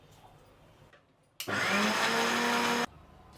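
Mixer grinder whirs loudly as it crushes soaked moong dal with a little water, a steady high-speed blender roar lasting about a second and a half after a quiet pause and then stopping abruptly.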